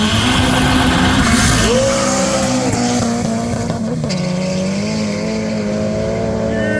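Two turbocharged first-generation VW Golf hatchbacks at a drag racing event, engines roaring loudly and continuously, with rising and falling revs as they launch, no talk.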